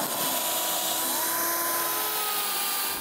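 A power drill runs steadily for about three seconds while building a wooden serving tray, a loud continuous whine with a shifting pitch that cuts off near the end.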